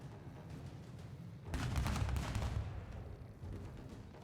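Cannon fire in a pirate ship battle during a fantasy tabletop session, a broad rumbling barrage swelling suddenly, holding loud and booming for about two seconds, then easing into a lower, continuing roar.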